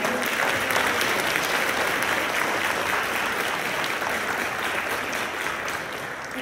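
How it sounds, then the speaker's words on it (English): New members at a National Honor Society induction ceremony receive a sustained round of applause, dense crowd clapping holding steady and loud before easing slightly toward the end. "Please, let's give another round of applause for our new members tonight."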